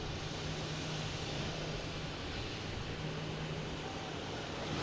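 British Airways airliner at Boston Logan Airport, a broad, steady jet roar filling the air at constant loudness throughout.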